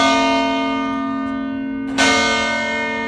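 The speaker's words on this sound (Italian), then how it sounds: "Le campane suonano alle 7:03 in punto." Church bells in Treviso ring out loud and near, a sustained resonant tone decaying slowly before a fresh strike about two seconds in renews the clang, with no voices.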